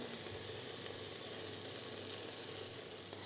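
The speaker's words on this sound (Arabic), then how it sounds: "نجي نقليه غايه في شويه تاع زيت" Onion frying in a little hot oil, a faint, even sizzling hiss that holds steady throughout, with no voices.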